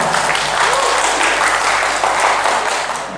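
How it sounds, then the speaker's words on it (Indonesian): At an activists' forum in South Kalimantan, a large gathering claps loudly and evenly in a close, dense roar that lasts the whole moment. "Tepuk tangan untuk kita semua."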